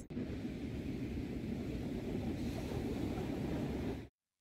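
Ocean surf rolling steadily onto Morro das Pedras beach, a continuous loud wash of breaking waves with wind buffeting the microphone throughout, ending abruptly.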